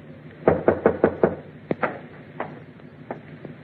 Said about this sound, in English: waited for your knock on my door